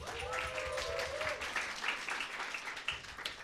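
Audience applause at a panel event, steady clapping from a crowd sustained for several seconds with no pauses.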